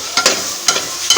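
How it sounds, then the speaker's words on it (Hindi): Fish frying lightly in a pan for a Pakistani-style fish masala, a soft steady sizzle broken by a few sharper bursts of spatter as pieces settle in the oil. "और अब हम करते हैं हल्की सी फ़िश फ्राई।"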